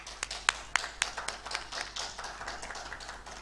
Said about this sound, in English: So let's also clap for him.